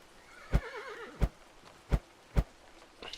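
A horse in the video game Old Market Simulator gives a wavering neigh, set among four sharp, evenly spaced hoof clops on a quiet, faintly humming background.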